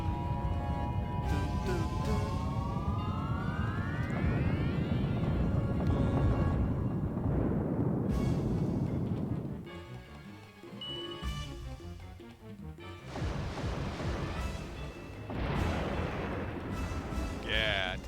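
An Explosion spell goes off in a Suikoden battle: a rising, swelling tone leads into a long, loud, roaring burst of booming rumble, which then fades into further crackling blasts near the end.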